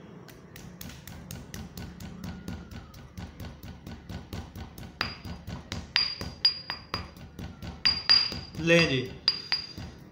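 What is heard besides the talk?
grinding walnut kernels in a mortar and pestle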